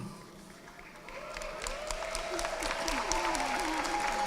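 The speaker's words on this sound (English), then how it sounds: "It's okay to applaud" Audience applause at a Hostos Community College commencement ceremony swells gradually under a rising tonal hum or music, with crowd noise growing louder toward the end.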